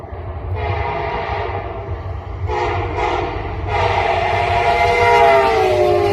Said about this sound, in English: This train was recently repainted into the Baltimore and Ohio paint scheme